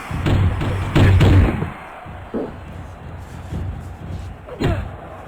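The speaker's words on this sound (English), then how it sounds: "And, oh, he just slammed Shapiro." A heavy body slam thuds down in a wrestling-style ring brawl, followed by a few softer thumps and impacts over a low rumble, with no talking.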